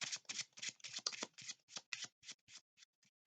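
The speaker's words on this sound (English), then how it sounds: "And I would shuffle it somewhere into the deck," Playing cards riffled and pushed into a deck during a magic trick, about a dozen quick crisp bursts in a steady rhythm, close and fairly quiet, tapering off toward the end.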